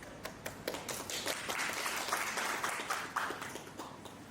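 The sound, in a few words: audience applause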